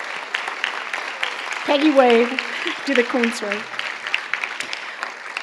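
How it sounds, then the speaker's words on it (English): Applause from the audience at a youth health awards ceremony as honorees stand, steady clapping throughout with people speaking clearly over it. "we can give you a little round of applause"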